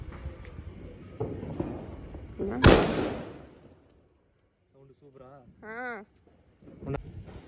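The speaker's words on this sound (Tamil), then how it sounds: "எங்கள் மாமா வந்து பிஜிலி வெடி வெடிக்க போகிறாரு" A single sharp, loud Diwali firecracker bang cuts through background chatter, followed by a fading rumble; voices continue before and after.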